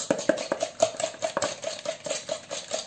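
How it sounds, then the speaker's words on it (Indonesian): Fork whisking ingredients in a bowl for homemade noodle dough, a quick even run of light clicking taps against the bowl, close and fairly soft, with no talking. "Lalu ini kita kocok dulu ya. Kita kocok pakai garpu saja."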